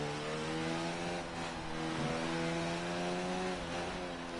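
Race cars starting their laps at a Japanese Grand Prix circuit in a racing video game: a dense, continuous engine drone with several overlapping revving tones, loud and steady with no talk.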